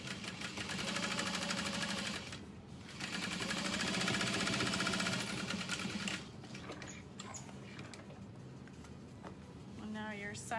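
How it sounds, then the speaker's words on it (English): A home sewing machine runs in steady bursts with a longer basting stitch, attaching a side pocket to a fabric satchel bag, its rapid mechanical whir rising and pausing while a person talks over it. "I'm going to baste this pocket on. I'm gonna make my stitch length a little bit longer because it is a base stitch."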